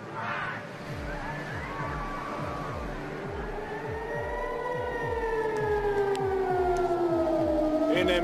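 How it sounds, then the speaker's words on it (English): Air raid sirens wail over Jerusalem in a long, rising and slowly sliding tone that carries far across the area, with steady low rumble and rhythmic thumping underneath. "The air raid sirens going off were really the topic of the day here in Jerusalem."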